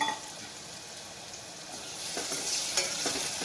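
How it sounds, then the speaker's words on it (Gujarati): Finely chopped onion frying in oil makes a continuous close sizzle that swells louder partway through, with light crackles and stirring scrapes. "હવે આપણે ડુંગળી એડ કરીશું ચોપ કરેલી। ડુંગળી સેજ શેકાય"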